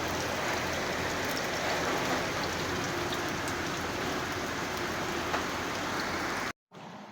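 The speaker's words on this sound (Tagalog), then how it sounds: "Lumakas po yung ulan." Heavy rain pours in a dense, loud, unbroken roar for several seconds, with no voices over it, then cuts off abruptly just before the end.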